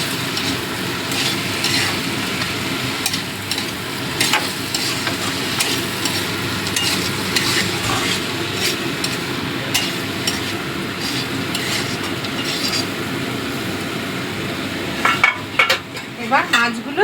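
Amudi fish curry is stirred and mixed in a hot pan, with a continuous sizzle and frying hiss under repeated scraping and clinks of a utensil against metal, a few sharper knocks near the end.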